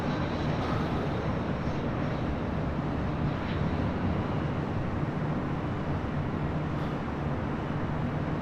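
A Southwest Airlines jet passing over LAX, heard as a steady, broad engine roar with a wind-like rush that holds at a constant, fairly distant level throughout.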